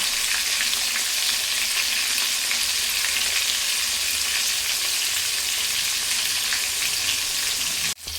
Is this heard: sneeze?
no